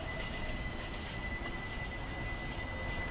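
A city tram rolls past with a steady, close rail rumble and thin high wheel squeal sustained throughout.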